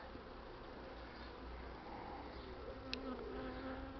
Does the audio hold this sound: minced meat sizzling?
no